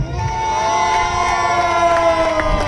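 A wedding sangeet crowd cheers loudly for a celebrity couple, a dense, continuous wash of shouting voices and applause close by.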